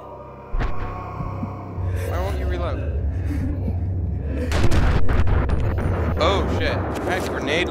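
Gunfire from a survival horror video game, Eternal Darkness, with a series of sharp shots and impacts over steady game rumble and music, most dense in the later half.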